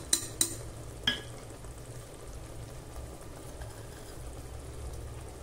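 Spice masala with coriander powder frying for a goat head curry, heard as a low, steady sizzle with a few sharp taps of a spoon on the pan at the start, quiet and close.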